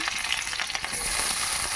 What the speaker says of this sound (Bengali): এই কড়াইয়ের মধ্যে দিয়ে দিচ্ছি ওই তেলে দিয়ে দিচ্ছি রসুন কুচি